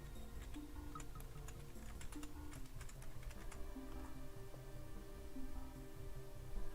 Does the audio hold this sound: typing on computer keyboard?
yes